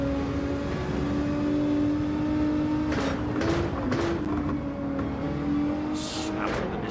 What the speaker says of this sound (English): Snap of the Nissan gearbox as he drops it down the gears